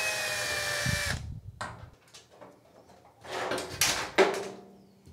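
A power drill whirs loudly for about a second while backing Phillips screws out of the top of a Kenmore Whirlpool washer, followed by rattles and clunks of the screws and panel being handled.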